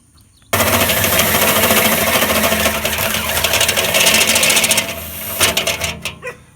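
A power drill drives a step drill bit through a 3/4 inch hole for a smoker probe port, making a loud, steady grinding whir for about four seconds before it winds down to a few short knocks.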